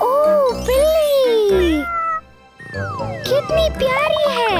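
A cat meows repeatedly in a drawn-out, whining way, loud and close, with a brief pause midway, alongside a voice and a light jingling sound.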